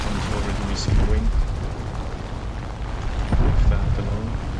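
A 12.7mm machine gun fires in a World War II-era air combat video game set at Khalkhyn Gol, loud dense bursts of rapid shots over droning engine noise, with no talking.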